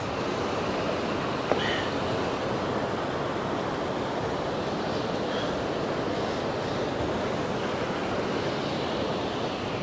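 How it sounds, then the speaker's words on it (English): A river running at high flow sends up a steady, dense roar of rushing water outdoors. The sound holds constant and loud throughout, with one faint click early on. "river is at a high peak today, folks."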